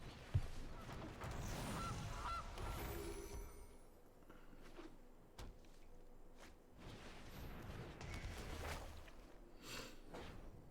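A goose honks within a video game during a Historic-format card game match, the honk sounding near and loud over a busy background of game sounds, with a few sharp whooshing effects scattered through the clip.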